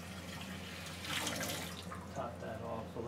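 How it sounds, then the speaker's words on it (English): Fresh water pours into a pet's water dish in a steady, close splashing stream that swells briefly midway, with a faint background hum. "And then some fresh water in."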